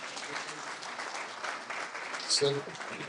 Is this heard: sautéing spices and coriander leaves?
no